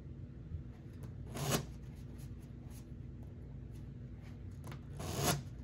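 Blackjack cards at a high-stakes casino table are riffle-shuffled in two brisk, crisp bursts several seconds apart, over a quiet, steady room hum.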